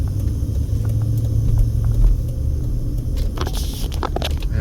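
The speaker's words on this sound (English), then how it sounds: "we've got some cross traffic, which we will wait for and go" Cross traffic rumbles past on a Las Vegas street, heard as a loud, steady engine and tyre roar close by, with a crackling swell as another vehicle goes through near the end.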